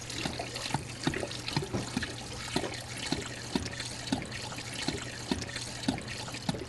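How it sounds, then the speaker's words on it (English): Cold water is poured to rinse honey from honeycombs while making beeswax in Kenya, a steady trickle and splash with light regular drips, faint and continuous, with no talk. "We wash, pour water so that we eliminate all the honey."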